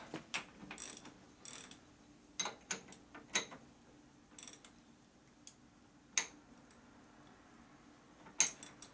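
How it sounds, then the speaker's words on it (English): A lever-style ratchet wrench with a long socket, used on a 2001 Gilroy Indian motorcycle, gives off a run of sharp, close clicks in uneven bursts over a quiet room hum, with no talking. "hate these lever style ratchets"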